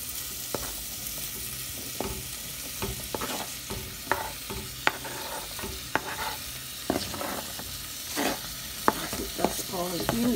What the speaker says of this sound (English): I won't let the oil be too hot, so I add them to the pot.